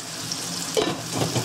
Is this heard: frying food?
yes